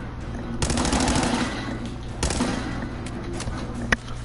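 Automatic gunfire from a weapon in Fallout 4, with a sustained burst up front, a second sharp burst midway and a brief crack near the end, fairly loud with no talk.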